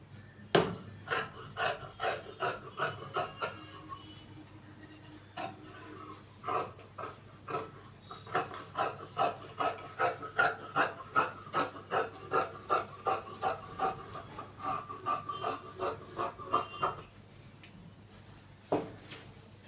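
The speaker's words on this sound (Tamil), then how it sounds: "இப்போ வெட்ட போகிறோம். வெட்டுவதை கவனிங்க." Scissors cut through chudidar semi-patiala pant fabric in quiet, steady, rhythmic snips, close and soft, with a brief pause partway through.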